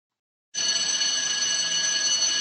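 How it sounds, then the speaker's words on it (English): A bell rings to signal the start of an online English class, coming in abruptly after a short silence and holding as a steady, bright, sustained ring, close and alone. "you ring the bell when the class begins"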